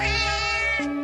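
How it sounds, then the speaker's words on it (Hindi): A cartoon cat gives a single long, loud, wailing meow close by, held steady for about a second with a rising cry at the end. "अरे देखो, ये बिल्ली रो भी रही है।"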